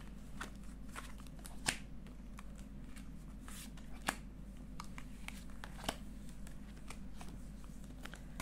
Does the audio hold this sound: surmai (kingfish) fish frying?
no